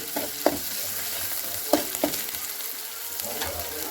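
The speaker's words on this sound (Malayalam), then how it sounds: "ഇതിന് നല്ലപോലെ ഒന്ന് ഇളക്കി കൊടുക്കാം" Buffalo leg curry being stirred in a frying pan, with a spoon scraping and clacking against the pan in a few sharp knocks over a steady low sizzle, close by.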